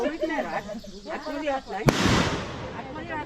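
A firecracker bursts with one sharp, loud bang during a Gauri idol immersion, followed by a crackling, hissing tail that fades over a second; people talk before the blast.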